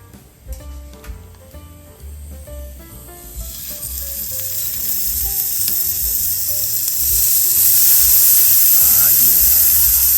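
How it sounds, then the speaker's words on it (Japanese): Akaushi wagyu beef is seared again in a pan. The sizzle starts under people talking, then swells from about three seconds into a loud, steady hiss that keeps building to the end. "もう一回焼き直していきますね。"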